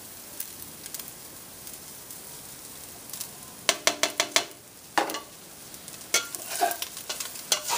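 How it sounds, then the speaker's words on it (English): Ground beef sizzles steadily in a pan as seasonings are stirred through, with a run of close scraping spoon strokes clustered in the second half, no voices. "So now I'm going to add in those seasonings."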